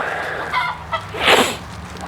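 Old hens clucking inside a duck house, a few short close clucks followed by one louder, drawn-out squawking call, with a low steady hum underneath.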